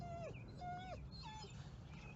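A dog whimpers and yips in a string of short, high, wavering cries with slight pauses between them, close and fairly quiet over a low room hum.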